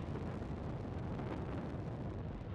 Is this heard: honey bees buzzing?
no